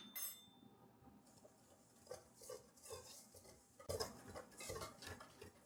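A spoon stirs milk powder and baking powder in a bowl, giving quiet scraping and light clinking strokes close by, in a faint, irregular rhythm.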